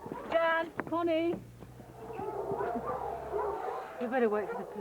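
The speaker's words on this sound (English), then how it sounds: "the dogs are all barking" Several dogs bark and yelp in short bursts close by, with a low steady hum and rustling behind them, and a voice murmurs briefly near the end.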